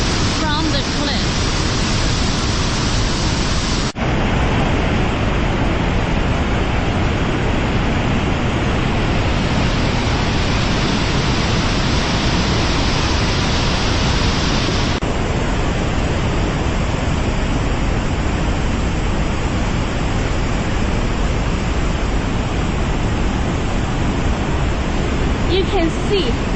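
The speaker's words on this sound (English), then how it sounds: "Look at this water just running down" Heavy water pouring down from a cliff during a fierce storm at the Cave of the Winds, a loud, steady, broadband roar that fills the whole stretch, close and continuous with no pauses.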